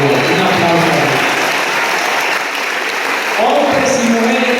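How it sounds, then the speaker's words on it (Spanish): Audience applause at a church family leaders' meeting, steady dense clapping from a large crowd filling the whole stretch, with some voices mixed in toward the end. "Denme un aplauso a la vida, un aplauso a la vida."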